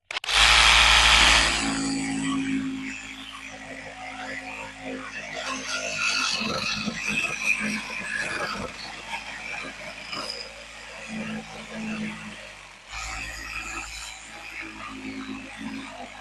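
A Sturmax RSM8801CR cordless reciprocating saw cuts solid metal, opening with a loud, harsh burst, then settling into a steady buzzing drone with brief dips around the middle and near the end.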